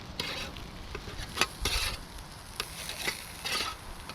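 Wild turkey burgers sizzle on a charcoal grill while being shuffled around, a steady frying hiss broken by several soft scraping and shifting bursts at close range, with no talk.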